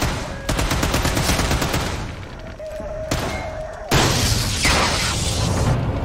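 Loud rapid gunfire in the shooter Sniper Elite 5, with bursts of automatic shots, a brief ringing tone, then a heavy blast and sustained crackling fire close up.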